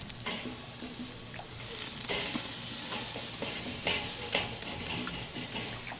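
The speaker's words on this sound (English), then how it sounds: "I am searing these with the lid off for 2 reasons" Sirloin steaks searing on an open grill with the lid off, a continuous loud sizzle and crackle with scattered pops and ticks throughout, close and steady with no talk.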